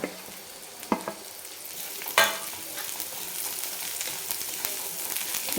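Chicken masala with red chili powder being stirred and sautéed in a pan for a spicy dry chicken dish, a steady soft sizzle broken by a few sharp scraping stirs, close and alone with no talk.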